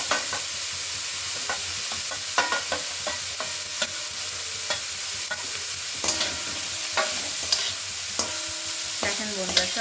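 Beans, cabbage, carrot and peas being stir-fried for momo filling, a soft sizzle under frequent scraping and tapping stirs of a spatula against the pan, close and uneven in rhythm, with no talking.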